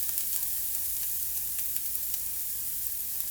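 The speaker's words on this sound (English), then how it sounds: "If you hear a sizzle, that's good." Onion and jalapeno sizzle in a hot frying pan, a steady, even crackling hiss that stays at one level throughout.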